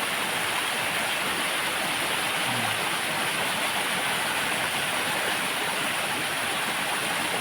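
The Kham Bak waterfall in Thailand roars steadily and loudly, a dense unbroken rush of falling water from start to finish.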